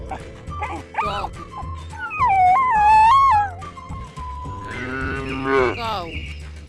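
A cow gives a drawn-out moo mixed in with dog-like yips and other animal calls, moderately loud and close, with voices faintly underneath.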